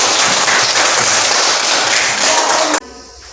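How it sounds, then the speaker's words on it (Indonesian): A classroom of students applauds a classmate, dense continuous clapping filling the room, loud and steady before stopping abruptly near the end. "Ya, tepuk tangan untuk Vicky."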